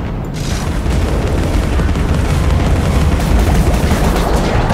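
Booming cannon blasts and explosions from Jayce in a video game, a dense, continuous barrage of heavy thuds and rumbling impacts with no voice over it.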